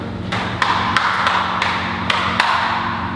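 Swisstrax Ribtrax interlocking garage floor tiles are set down and snapped into place, giving a series of sharp plastic taps and thuds at irregular intervals, close by over a low background hum.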